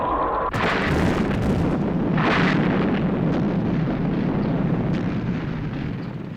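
Missiles fired with heavy explosions in a Thunderbirds episode: loud booming blasts and bursts over a continuous rumbling roar, close and forceful, fading slightly at the end.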